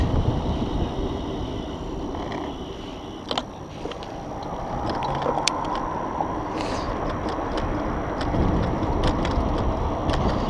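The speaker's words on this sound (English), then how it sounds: "This thing hums along pretty good" An Emmo Urban S electric scooter cruising on a commute, a steady low motor hum mixed with road rumble and wind buffeting on the microphone, with small rattles over bumps and no talking.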